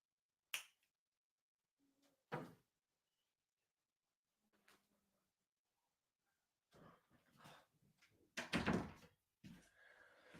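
A house door is unlatched and opened to let a cat in. Scattered sharp clicks and knocks are followed by louder rattling, thudding bursts of the door moving, all close and with no one talking.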